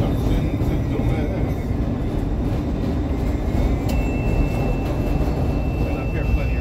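A CTA L train runs down the Loomis ramp, heard from inside as a steady rumbling roar of wheels on rails. A thin high metallic squeal rises briefly partway through, and there is no clear talk.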